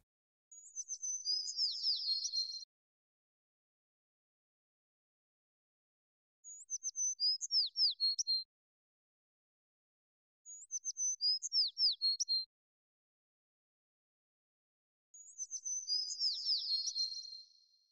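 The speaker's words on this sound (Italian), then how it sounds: "Ed è sempre di suoni di uccelli" High, quick bird chirps and twittering come in four separate bursts, each a couple of seconds long, with quiet pauses between them.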